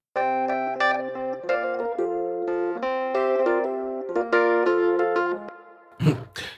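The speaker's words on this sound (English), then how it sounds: "the next sound we got is an electric piano" Electric piano sample playing a sustained, bell-like chord pattern with struck note changes over several seconds, clean and upfront, ending with a short burst of noise.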